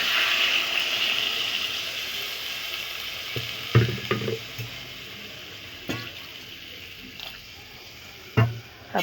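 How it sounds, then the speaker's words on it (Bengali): Hot water poured into a sizzling pan of pumpkin, peas and lentils for kumro shak motor dal, giving a steady close frying hiss with a few louder splashy bursts and stirring clatters. "এবার আমি দিয়ে দেব গরম জলটা।"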